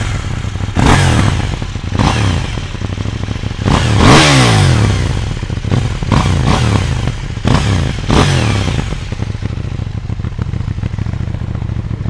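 A KTM Duke 790, an 800cc-class motorcycle with 105 horsepower, revving hard at close range, with several sharp throttle blips rising and falling over a loud, clattery idle.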